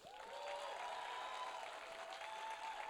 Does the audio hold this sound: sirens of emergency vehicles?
no